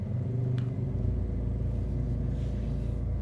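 Honda Civic turbo engine revved hard under deep throttle, a loud sustained low rumble that swells at first and then holds steady and close, with no speech.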